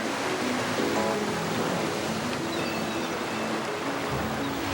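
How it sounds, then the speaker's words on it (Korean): Rough sea surf building under strong wind, a dense, steady roar of crashing waves and rushing air that stays loud and unbroken throughout, with no voices. "바다에는 풍랑이 일기 시작했습니다"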